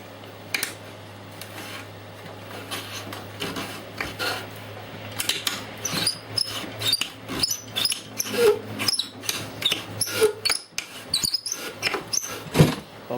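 An ammunition reloading machine runs with a low steady motor hum, overlaid by irregular mechanical clicks, rattles and small squeaks as a part spins loosely in its spindle; the hum stops near the end while the clicking continues.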